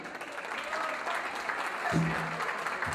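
A crowd claps at a Dutch cultural and solidarity evening for people from the Aegean region; broad, continuous applause runs throughout, with a brief low tone rising beneath it near the end.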